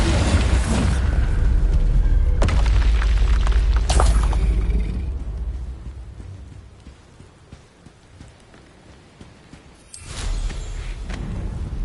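A Bombarda blasting spell goes off in a Harry Potter video game: a loud, sustained roaring explosion with a heavy low rumble that fades to a quieter crackling tail, then a fresh burst near the end.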